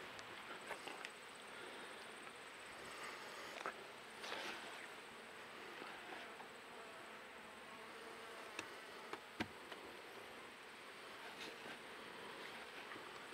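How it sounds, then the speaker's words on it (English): Honey bees buzz around a hive frame during a beekeeping inspection, a faint, steady insect drone with a few brief sharp knocks and no speech. "Get off my frame, little bee."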